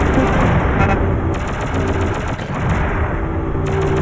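Continuous loud gunfire and blasts in the PlayStation shooter Shockwave Assault, a sustained rattling barrage with electronic tones layered over it throughout.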